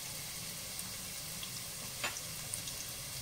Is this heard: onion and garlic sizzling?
yes